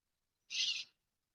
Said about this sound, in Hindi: इसी चिड़िया की आवाज जो आ रही है